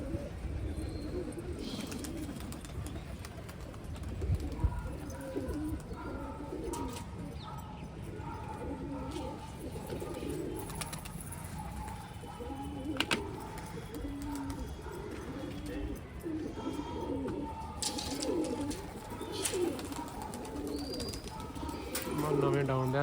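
Pigeons, including a newly caught one, cooing in a low repeated throaty rhythm, fairly close over a busy outdoor background, with voices talking intermittently throughout.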